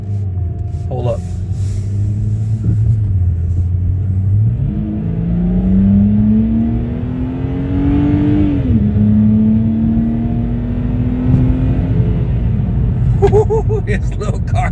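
A small naturally aspirated car with no turbo accelerates in a parking lot, its engine rumbling low, then revving up through a rising pull, shifting and climbing again, loud and close from inside, with talk over parts of it.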